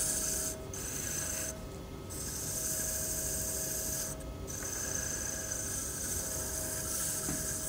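Sandpaper rubbing against a turned timber Christmas bell spinning on a wood lathe, a steady close raspy hiss over the motor's hum with brief dips where the paper lifts off the wood.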